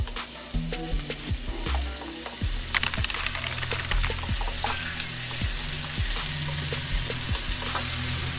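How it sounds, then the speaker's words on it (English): Kimchi and rice sizzle steadily in meat oil in a hot pan, with scraping stirs and occasional clinks of a utensil, close and continuous with no talking. "I'll add in the kimchi sauce now and give them a good fry together."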